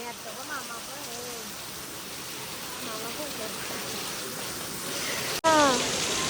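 Steady rain hisses all around at a village fair in Narpoli while voices talk and call out over it, with one sudden louder burst of sound near the end.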